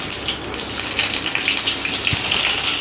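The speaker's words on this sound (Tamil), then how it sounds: "ஹீட் ஆனது அதில் ஒரு டீஸ்பூன் கடுகு உளுத்தம் பருப்பு சேர்த்துக்கலாம்." Mustard seeds and urad dal splutter in hot sesame oil in a pan, a continuous crackling sizzle with scattered pops, close and steady.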